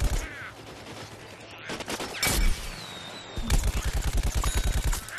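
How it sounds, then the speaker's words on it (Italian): Machine gun fire in the video game Plants vs Zombies Garden Warfare, rapid bursts of shots with a sustained rhythmic volley at the end, mixed with game effects and brief talk. "questa è la mitragliatrice"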